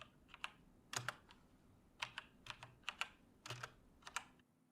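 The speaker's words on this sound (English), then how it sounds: "This is how it sounds when they're typing." Someone types on a computer keyboard in short bursts of clicky keystrokes with brief pauses between them, close and fairly quiet, with no voices.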